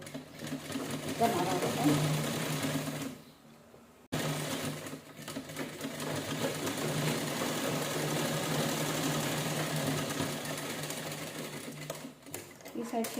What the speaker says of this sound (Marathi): आता शिलाई करून घेऊया साईडनं आपण